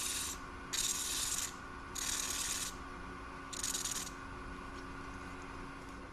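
Three or four bursts of rough, scratchy sandpaper sanding a piece on a wood lathe, each lasting about a second, separated by a steady low machine hum.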